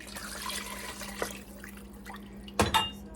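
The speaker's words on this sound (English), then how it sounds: "we're gonna add in some water" Water runs and splashes in bursts as it is poured into a pot, with a sharper pouring splash near the end and a steady low hum underneath.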